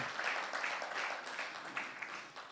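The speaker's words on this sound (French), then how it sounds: "Est-ce qu'on peut les acclamer?" A church congregation applauds its workers with a steady, fairly faint wash of clapping that carries on throughout and tapers slightly at the end.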